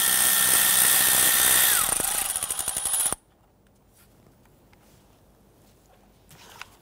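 A power tool rattles loudly on a 10mm bolt near a power steering line on a 2011-2017 Nissan Quest 3.5L V6, its whirring pitch dropping before it cuts off abruptly, followed by quiet faint handling clicks.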